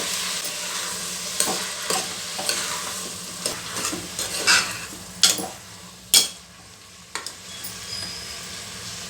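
Tomatoes frying in a pan for rajma curry, a continuous sizzle broken by repeated clinks and scrapes of a spoon stirring, several sharp louder knocks toward the middle, no voices.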